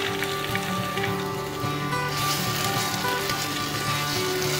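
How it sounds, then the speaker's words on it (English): Tomato paste sizzles in a pan of garlic and olive oil with a steady, close, crackling fry while it is stirred, and no talk. "Give this a stir to get the raw tomato paste taste out of it"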